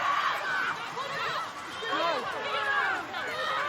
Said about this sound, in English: Listen to the chatter on the field and coming from the crowd.